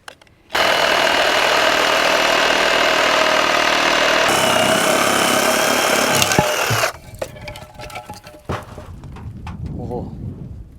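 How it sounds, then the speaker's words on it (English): Battery-powered Sawzall reciprocating saw cutting during cleanup after a storm: a loud, steady buzzing whine that runs for about six seconds, shifts pitch midway, then stops, followed by clattering and knocking. "I'm low on battery for the Sawzall."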